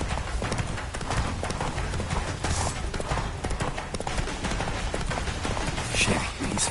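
Roach the horse gallops in The Witcher 3: Wild Hunt, rapid rhythmic hoofbeats pounding continuously and close, with a voice briefly heard over the running.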